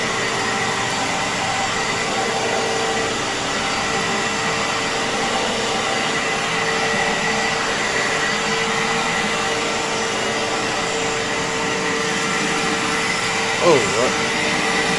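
An Iona Fantom Fury 10 amp vacuum cleaner with freshly oiled brush roll bearings runs throughout, a loud steady droning whine with no breaks, and a person speaks briefly near the end.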